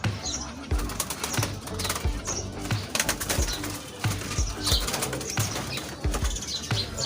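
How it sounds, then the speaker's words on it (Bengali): Pigeons in a coop beat their wings in repeated bursts as they are caught one by one, with scattered soft chirps and coos between the loud, close flapping and no talk. "তো এখন এক এক করে কবুতর ধরবো"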